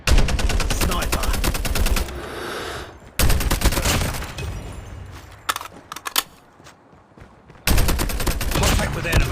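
Loud bursts of DR-H assault rifle fire in the mobile shooter Call of Duty Mobile, long sustained volleys broken by short gaps and scattered single cracks, with no talk.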